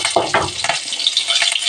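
Chopped onions are tipped into a hot pan and stirred, a few quick scraping, rustling strokes up close followed by a lighter, softer sizzle, with no talking.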